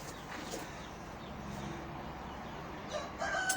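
An Aseel fighting rooster being readied for a fight crows faintly in the background, a thin distant call over steady low ambient noise with no speech.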